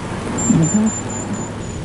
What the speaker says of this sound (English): The rain hadn't abated when we reached the summit.